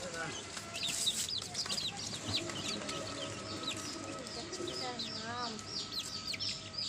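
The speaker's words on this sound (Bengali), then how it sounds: "বাড়িতে এসে টোটোর থেকে মুরগির বাচ্চাগুলো নামাচ্ছি, এরপরে ঝুড়ির মধ্যে রাখবো" Many high, thin chirps and peeps from a group of young chicken chicks, continuous and close, with some clucking and a faint voice in the background.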